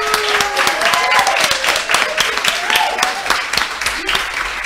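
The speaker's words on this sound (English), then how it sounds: "Let me get a round of applause for them." A loud round of applause from a crowd at a video games contest fills the space, with cheers and whoops mixed into the dense clapping.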